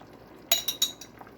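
Cranberry horseradish jam dropped into a brine, giving a few quick clinks and wet plops close by, three distinct bumps over about a second against a quiet room.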